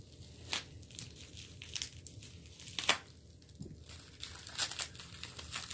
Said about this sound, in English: This is so fun to watch him unwrap.